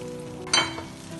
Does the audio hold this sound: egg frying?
yes